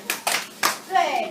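A few separate claps from students in a classroom during a science lesson, three sharp bursts close together, then a voice talking at the end.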